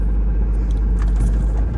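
Deep, loud rumble from a faulty Mercedes SL500 engine, a rough, uneven low drone over a couple of seconds, close by and without talk.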